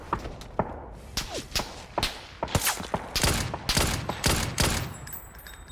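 Rapid, sharp bursts of PUBG gunfire crack out in irregular volleys, punchy and close, with a few dull thuds mixed in.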